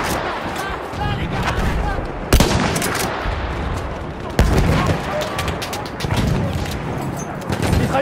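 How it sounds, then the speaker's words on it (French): Enemy machine gun fire in a video game, with a sustained, dense rattle of gunfire and a few sharper loud bangs standing out over a continuous noisy battle din. "Mitrailleuse ennemie en vue."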